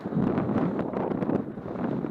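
Strong headwind buffets the microphone while cycling in Japan, a loud, continuous low roar with gusty pulses, drowning out everything else.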